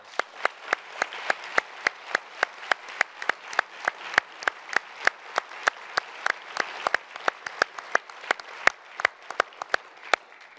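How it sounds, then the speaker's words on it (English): Applause during a conversation event with Gary Sinise, but thin and sparse: a few hands clapping in a slow, steady rhythm, each clap distinct over a faint crowd bed. "How about another round of applause?"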